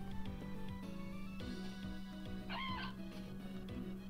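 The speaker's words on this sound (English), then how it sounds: "Oh my god, these chickens are crazy." Chickens in the farming game Story of Seasons: A Wonderful Life, a brief clucking burst amid a busy game soundtrack of repeating tones.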